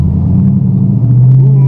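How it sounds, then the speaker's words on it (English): Deep, steady exhaust rumble from a 2014 Mustang GT automatic running MagnaFlow Racing Series mufflers, a loud continuous low drone with a slight pitch rise near the end, close and without speech. "So it's pretty loud on like idle and stuff like that, no restrictions, and definitely opens up when you get into it."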